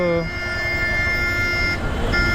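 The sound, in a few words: bus horn honking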